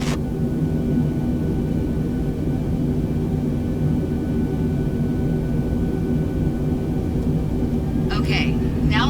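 A320neo engines at takeoff thrust in Microsoft Flight Simulator 2020 give a loud, steady roar with a droning hum throughout, and a few brief chirps come near the end.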